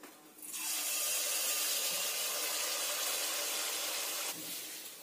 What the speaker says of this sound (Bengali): আবারও একটা কড়ার মধ্যে দিয়ে দিলাম